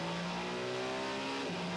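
Toyota number 7 Le Mans prototype race car accelerating out of the Arnage corner at the 24 Hours of Le Mans, a steady rising engine drone with the pitch climbing, then a brief dip as it shifts up.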